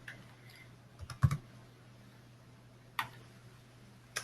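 A few scattered keystrokes on a computer keyboard click sharply nearby, a short burst followed by a pause and a single later tap, over a quiet steady hum.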